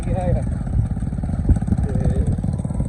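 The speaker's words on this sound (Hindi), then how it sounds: "मोटरसाइकिल का शोर बहुत है क्योंकि मेरी मोटरसाइकिल का सिलेंडर टुट गया है" Loud, rough motorcycle engine with a broken cylinder, running close by with a pulsing, clattering chug throughout, while a person talks over it in rural Punjab countryside.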